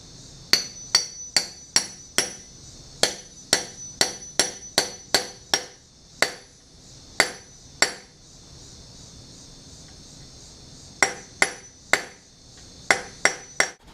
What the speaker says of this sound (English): Had to drive it back out, put some grease on it, and then drove it right back in.